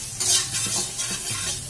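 Tempeh ingredients tipped into a hot pan, with a short burst of sizzling frying and quick stirring scrapes, close and lively for under two seconds.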